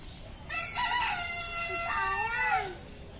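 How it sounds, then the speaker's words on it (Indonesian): A rooster crows once at a zoo, loud and close, in a rising-then-falling cock-a-doodle-doo lasting about two seconds over quiet background. "Iya itu ayam."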